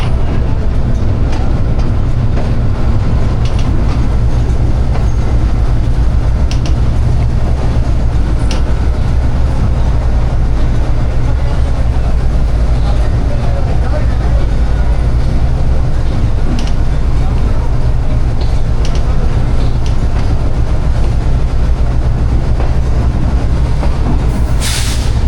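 Jaffar Express standing at platform number 5 of a station, a steady loud low rumble and hum of the train and platform, with faint scattered clanks and distant voices underneath.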